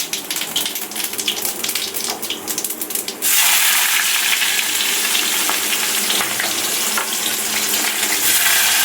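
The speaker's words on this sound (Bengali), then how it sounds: "এবার এটাতে ভাজবো আমি বরবটি।" Long beans hit hot oil seasoned with whole cumin seeds, and a loud, steady sizzle erupts about a third of the way in, following quieter pan sounds and lasting to the end.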